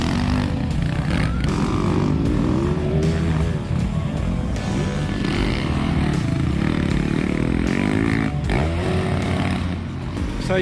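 Motorcycles roar past on a dusty beach track at the Quirino Motorismo event in Ampere Beach, a dense, continuous wash of revving engines rising and falling with no talk.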